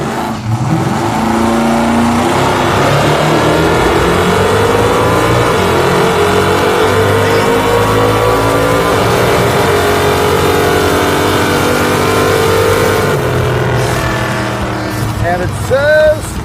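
Drag car, a 1969 Pontiac Firebird, launching hard on nitrous with tires spinning, a loud, close engine roar climbing steadily in pitch for many seconds, with brief screeching chirps near the end.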